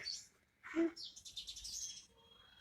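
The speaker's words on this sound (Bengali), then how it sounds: "কি সুন্দর পাখিগুলো ডাকছে" Several birds chirp and call at moderate distance at dawn beside a dark road, with bright high tweets scattered through a quiet outdoor scene and a brief lower burst midway.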